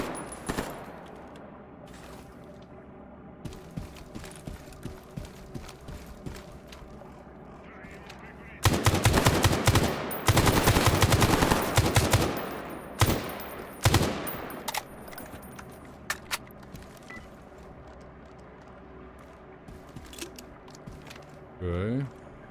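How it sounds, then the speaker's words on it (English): Video-game gunfire comes as a character walks: scattered single shots, then a dense, loud run of rapid automatic bursts in the middle before tapering off, with a person talking over parts of it. "He's walking and shooting."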